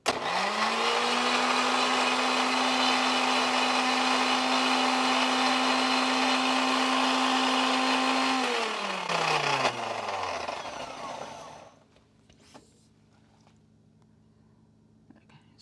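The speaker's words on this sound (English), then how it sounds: "So now we're just going to grind again." A mixer grinder whirs loudly at full speed grinding coconut and cumin, a steady high-pitched drone that winds down after about eight seconds, followed by faint clatter and near silence.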